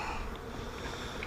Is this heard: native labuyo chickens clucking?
no